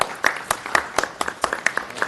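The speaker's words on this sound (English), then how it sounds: "How about an applause first?" A small group at a school board meeting claps briefly, a sparse, fairly quiet patter of separate hand claps in a room.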